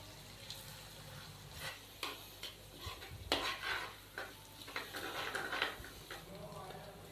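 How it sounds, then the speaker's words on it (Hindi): Ginger and garlic paste frying in a pan for chicken biryani, a soft steady sizzle with repeated light scraping and stirring clinks, fairly faint and close, with no talk over it. "अदरक और लहसुन के पेस्ट को हम 1 से 2 मिनट के लिए फ्राई कर लेंगे हल्का सा"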